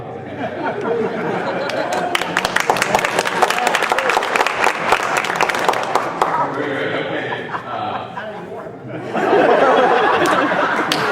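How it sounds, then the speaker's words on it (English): A debate audience applauds steadily for several seconds, with crowd chatter and some laughter mixed in, then the clapping swells louder again near the end. "I'm going to ask for applause for Tom Reed"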